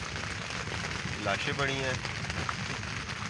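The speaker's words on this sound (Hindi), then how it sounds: "ये देखे क्या मार बारिश" Heavy rain falls at Rawal Dam in a steady close patter, with a voice speaking briefly over it.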